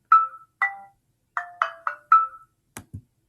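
Simple synthesized melody of a tune played back in Chrome Music Lab at tempo 120, six bright plucked notes in a loose rhythm followed by two short percussive hits, clean and alone.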